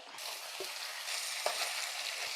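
Sliced potatoes fry in butter in a pan, giving a dense, steady sizzle throughout. A few faint utensil taps sit under the hiss.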